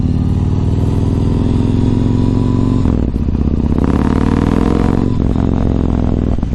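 A Yamaha MT-01 motorcycle engine rumbles loudly while riding on a commute, a deep, steady throb with a brief dip and then a rising rev near the middle.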